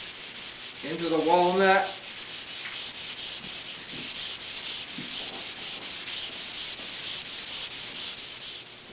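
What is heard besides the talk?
hand sanding walnut veneer desk top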